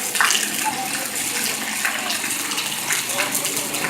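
Heavy rainwater pours and gushes in a steady, loud broadband rush during a thunderstorm in Piura, continuous for the whole stretch with faint voices in the background.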